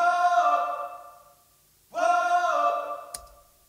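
A sung intro vocal track from a song recorded without instruments, with room reverb to sound distant: two sustained vocal phrases, each trailing off into a reverberant tail, heard alone without accompaniment.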